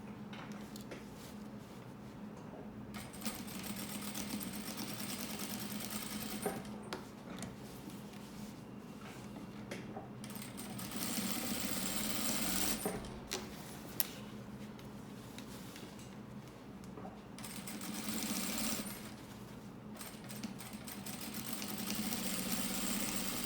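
A sewing machine stitches a fabric bag organizer in steady, whirring runs with brief pauses and restarts, fairly quiet and close, with no talk.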